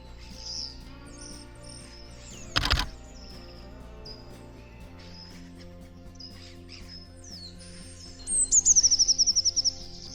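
Birds chirp and sing in short scattered calls over a quiet background with a faint hum, ending in a loud, close rapid trill of repeated notes.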